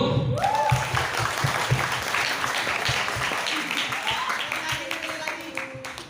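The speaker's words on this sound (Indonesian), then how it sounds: "Tepuk tangan dulu." A crowd at a seminar closing applauds with dense, sustained clapping that slowly tapers off, with some voices mixed in.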